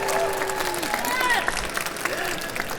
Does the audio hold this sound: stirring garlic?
no